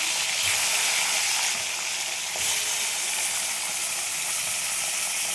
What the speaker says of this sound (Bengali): মাছগুলো ভেজে নেব, মাথাগুলো।